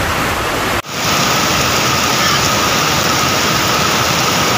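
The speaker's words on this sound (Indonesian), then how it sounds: "Banjir bandang, hujan deras di Kota Batu, Bulukerto, rumah hanyut." Heavy rain pours down in a steady, loud roaring hiss during a flash flood in Bulukerto, Kota Batu, broken by one brief dip before the continuous wash resumes.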